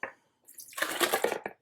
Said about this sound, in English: we're gonna pour the bread and milk into the blender here